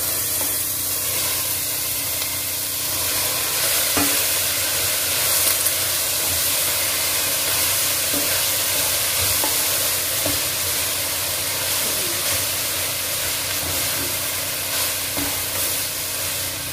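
Shredded cabbage with black pepper frying in a pan for a spring roll filling, with a steady close sizzle and hiss and occasional stirring scrapes throughout.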